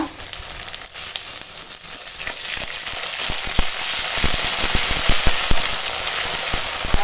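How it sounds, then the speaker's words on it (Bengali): Onions sizzle in a hot pan, a bright hiss with quick crackling pops that grow busier and louder over time. "পেঁয়াজটা একটু ভেজে নেব"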